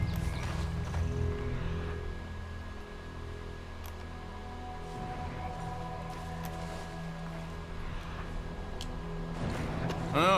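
A horse in the video game Red Dead Redemption 2 moving at a steady pace, hooves thudding softly over a constant low rumble, with faint movement sounds near the end.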